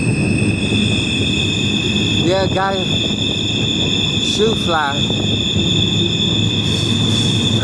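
Freight train wheels squeal loudly on a curve near Klamath Falls, sustained high tonal screeching over heavy rolling rumble, with a voice speaking briefly partway through.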